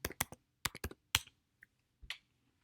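Fingers type on a computer keyboard in a few quick bursts, crisp close key clicks in rapid clusters separated by short pauses, then a final lone tap, with no talking.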